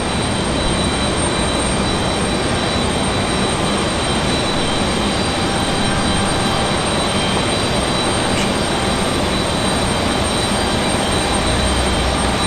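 American Airlines Airbus A321 jet taxiing out onto the runway at Raleigh-Durham International Airport for departure, a steady, loud broadband engine roar with a low rumble that holds evenly throughout, with no talk over it.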